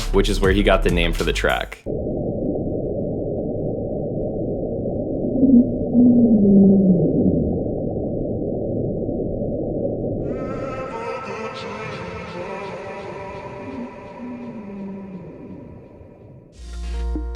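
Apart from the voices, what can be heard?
Julia underwater sound, iceberg run aground off Antarctica, NOAA 1999 recording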